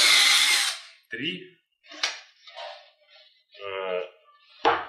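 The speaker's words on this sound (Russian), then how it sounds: "Сверлим отверстие в торце" A short burst of power drilling a hole into the end face of a furniture panel using a jig, then it cuts off, followed by scattered handling noises and a few spoken words.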